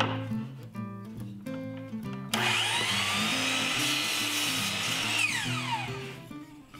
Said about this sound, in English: Now I can take a rough measurement and cut the maple to length.